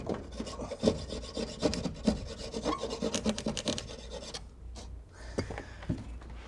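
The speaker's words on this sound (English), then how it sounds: "cutting any kind of wall material will always make a mess" Wall material is cut by hand along a template, giving a continuous rasping, scraping rhythm of quick back-and-forth strokes, close and clear, with brief pauses near the end.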